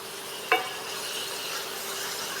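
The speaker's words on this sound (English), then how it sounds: "the beef is pretty much completely browned" Ground beef browning on an AMZCHEF dual induction cooktop makes a faint, even sizzling hiss, broken early by a single quick scrape of a utensil against the pan.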